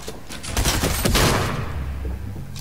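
A shotgun fires in a video game, a quick burst of loud blasts followed by a rumbling tail.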